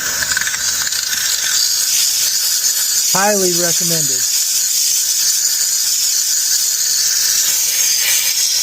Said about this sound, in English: a steam cleaner